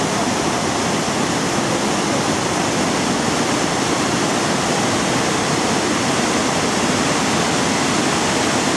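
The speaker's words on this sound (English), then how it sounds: "This is the best waterfall so far. How about that for a raging torrent?" Aysgarth Falls in the Yorkshire Dales pours as a raging torrent, a loud, steady, broadband roar of rushing water heard close and alone, unchanging throughout.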